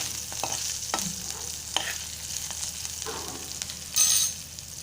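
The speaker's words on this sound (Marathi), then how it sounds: "आता आपण मिरच्या असं छान तेलात भाजून घ्यायच्या आहेत" Chilies roast in hot oil for a Malvani-style colocasia-leaf dish, a close, soft sizzling hiss with occasional stirring scrapes and a brief louder sputter toward the end.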